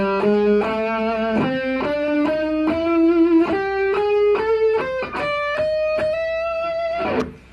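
A distorted electric guitar runs up an extended pentatonic scale in a lesson, with a steady string of about a dozen picked notes climbing in pitch, loud and sustained, ending on a held note with no talking.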